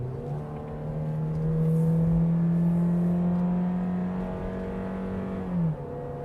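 Toyota Innova seven-seater MPV on a mountain road, its engine droning steadily as it accelerates, rising slightly in pitch and swelling in loudness before dropping off near the end as it shifts up, heard alone without talk.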